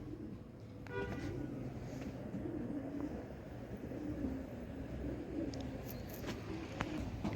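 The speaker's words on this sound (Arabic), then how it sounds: "الحمام تحط." Pigeons coo softly in a low, repeating murmur at a distance, with faint ambient noise around them and no clear speech.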